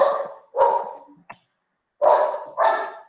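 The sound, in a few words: dog barking angrily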